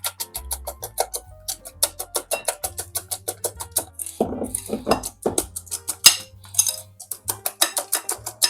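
Egg yolks and whites with sugar and starch whisked by hand with a single balloon whisk for a Napoleon cake, a fast regular rhythm of close metallic clinks against a bowl, loud and continuous.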